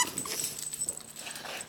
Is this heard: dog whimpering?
yes